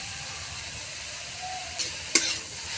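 Leafy greens frying in a pan with garlic that has been browned until reddish, a soft, steady sizzle close by, with a couple of brief clinks from stirring.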